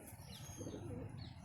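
A racing pigeon in a loft gives soft, low cooing, faint and close, with brief light rustles and a thin chirp above it.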